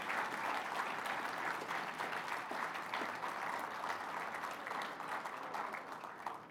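Audience applause at an anniversary gathering, a dense, continuous wash of many hands clapping at moderate distance, sustained evenly and tapering slightly at the end.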